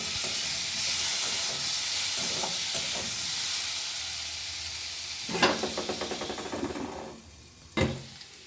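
Garlic paste sizzling and frying steadily in a hot pan, with a continuous hiss broken by a couple of sharp stirring or lid clatters near the end.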